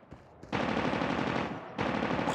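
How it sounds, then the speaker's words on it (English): A sentry gun in Call of Duty Mobile fires long, loud automatic bursts at close range, a brief pause splitting two sustained streams of rapid shots. "Sentry gun spotted."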